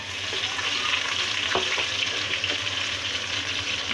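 A chopped onion fries in oil with mustard seeds for dhaba-style dum aloo, making a steady, dense sizzle with a few faint stirring clicks near the middle.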